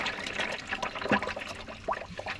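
Lukewarm fluid drains from a Kubota KX033-4 mini excavator during its 1000-hour service, a close trickling, splashing pour into a bucket with gurgling bubbles and no voices.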